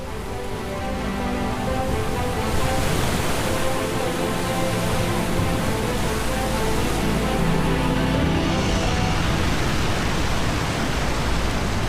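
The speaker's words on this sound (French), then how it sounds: "Les vagues, bien qu'immenses, n'arrivent pas à couvrir ces rugueux rochers qui, avec leur puissance, émergent." Powerful river waves crash against large rugged rocks in China, a loud, steady roar of rushing, churning water with no let-up across the whole stretch.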